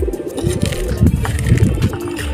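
Pigeons in a loft give soft, throaty cooing, several overlapping rolling calls close by over a steady low murmur.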